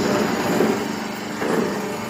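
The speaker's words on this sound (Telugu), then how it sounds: "2 HP మోటార్ సౌండ్" A 2 HP single-phase electric motor on a paper plate making machine runs steadily, a continuous close mechanical hum and whine with a slight swell in loudness partway through, no voices.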